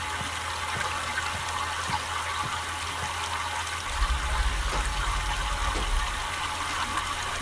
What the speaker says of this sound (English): we should hear water. We do hear water